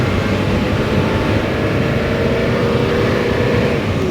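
Engine of a Mitsubishi Pajero with a late-shifting transmission, a loud continuous low rumble heard from inside the vehicle, with a slowly rising pitch as it runs.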